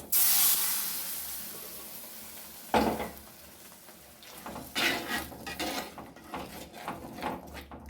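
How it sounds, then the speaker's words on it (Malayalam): Kerala payar curry is poured out among clinks of a pot and utensils, with a soft hiss and splashy bursts, quiet at first and then busier toward the end. "നമ്മുടെ പയർ കറി ഒഴിച്ചു കൊടുക്കാം."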